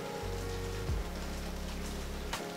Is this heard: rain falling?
yes